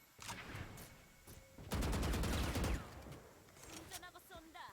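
Rapid video game gunfire while driving, a loud burst of automatic shots clustered in the middle with scattered shots before and after, mixed with engine noise.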